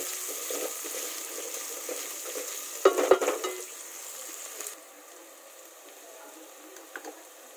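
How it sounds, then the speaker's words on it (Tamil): Onions with a little mint frying in a pan for a home lunch, a steady close sizzle with stirring and utensil scrapes, briefly louder midway then settling to a quieter hiss. "அடுத்ததா கொஞ்சமாக புதினா போட்டுக்கலாம். வெங்காயத்தை போட்டுக்கிட்டோம். அது நல்லா கொஞ்சம் ப்ரௌனிஷாக வரட்டும் வெங்காயம்."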